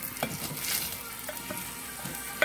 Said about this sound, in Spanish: Ahorita solo lo movimos para mezclarle la sal y el consomé.